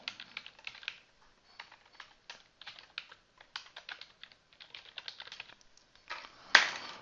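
Typing on a computer keyboard to write an email reply, a steady run of close, crisp key taps in uneven bursts with brief pauses, ending in one louder, sharper keystroke.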